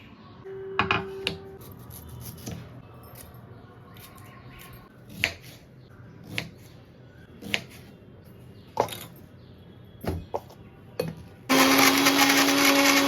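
A kitchen mixer grinder blends beetroot into a smooth paste in short bursts and pulses, ending in a loud sustained whir of the motor; no one speaks over it.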